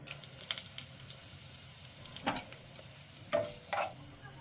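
Whole cardamom, cinnamon, cloves and peppercorns sizzle softly in hot oil, a faint low hiss punctuated by several sharper crackles and pops.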